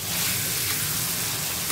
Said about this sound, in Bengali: নারকেল ভাজা হচ্ছে